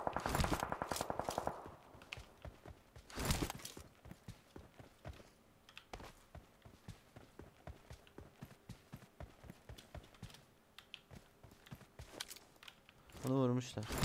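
Gunfire crackles through a PUBG Mobile match, with a burst of rapid shots at the start, a loud shot near the middle and many lighter distant pops and steps, while players talk over it.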